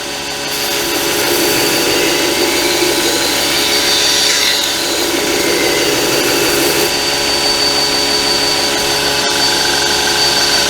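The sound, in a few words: Reeder grinder grinding a ding out of a hardened blade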